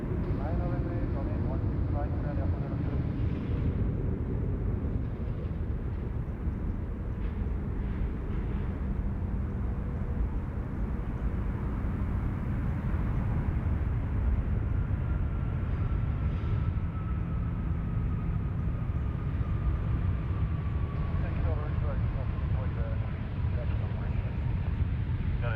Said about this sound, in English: Qantas 12 coming in from Los Angeles, California.